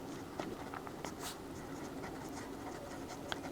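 Marker or chalk writing on a board while a lens formula problem is worked out, a faint quick scratchy series of short strokes over a steady low room hiss.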